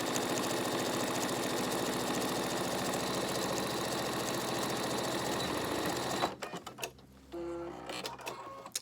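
A sewing machine stitches a seam on a reusable fabric face mask in a fast, steady, close-up whir that stops partway through, followed by faint handling clicks and rustles.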